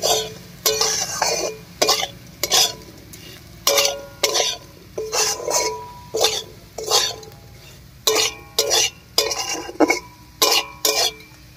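Fried potatoes with peanuts and poppy seeds are stirred in a pan, a spatula scraping in a steady rhythm of about fifteen crisp strokes spaced roughly every second, close and loud over a faint frying hiss.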